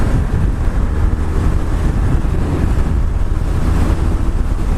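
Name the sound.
BMW R1200R motorcycle accelerating at speed, wind noise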